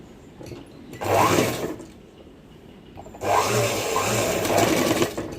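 A sewing machine stitches the shoulder seams of a newborn baby girl's gown in two loud running bursts separated by a quiet pause, close by, with no speech.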